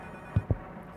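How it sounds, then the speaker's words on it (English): Telephone ringing in a psychological horror video game, two short low-pitched ring bursts about a beat apart over a faint steady hum, with no talk. "Phone is ringing."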